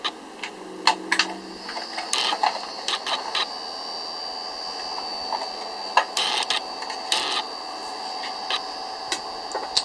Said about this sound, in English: one of my biggest complaints about this light was this very noisy fan